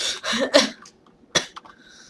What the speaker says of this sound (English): I think I just coughed.